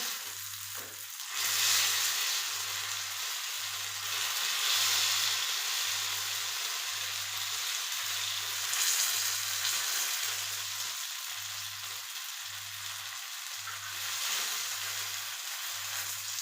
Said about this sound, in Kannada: ಕಟ್ ಮಾಡಿ ತಕ್ಕೊಂಡು ಈ ಥರ ಫ್ರೈನ ಮಾಡ್ತೀನಿ